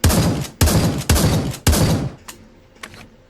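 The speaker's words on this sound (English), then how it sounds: "let's do the pump action shotgun" A pump action shotgun in Pavlov VR fires four loud, close blasts in quick succession, each with a short ringing tail, followed by two fainter clacks of the pump being worked.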